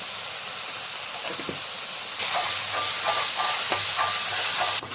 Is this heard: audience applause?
no